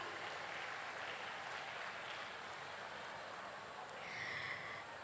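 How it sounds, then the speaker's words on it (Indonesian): Applause from an audience at a university talk on energy careers, a steady broadband patter that is quite faint and distant, filling the whole stretch without voices. "Tepuk tangannya lagi dong teman-teman UNER."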